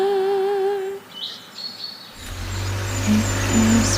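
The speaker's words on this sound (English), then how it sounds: "Just sitting there and listen to the birds" Birds chirp and sing in a few thin, bright calls, then a low rumble of a passing car rises and covers the birdsong.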